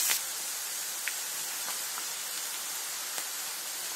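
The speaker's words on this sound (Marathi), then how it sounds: "आता आपण हा कांदा यामध्ये टाकून चांगला ब्राऊन रंगावरती ब्राऊन रंग येईपर्यंत तळून घ्यायचा आहे" Sliced onions frying in hot oil for biryani, a constant close, hissing sizzle like light rain, with a few soft pops and ticks scattered through it and no voices.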